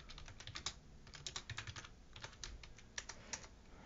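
Steady keyboard typing on a computer keyboard, a run of quick irregular key clicks with brief pauses, close and fairly quiet, with no talking.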